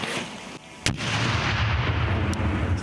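A hand fragmentation grenade thrown by cadets at a military training range detonates with one sharp, loud blast, followed by a long rumbling wash of debris and echo.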